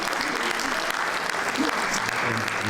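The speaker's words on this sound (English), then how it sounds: "can you give Mr. President another round of applause" Applause from the audience after a presidential speech at a newspaper public lecture and awards event in Nigeria, a sustained, even crackle of many hands clapping, with faint voices underneath.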